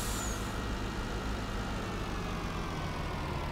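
Heavily loaded tractor engine running at a steady strained drone, loud and continuous with no voices, a short hiss at the very start.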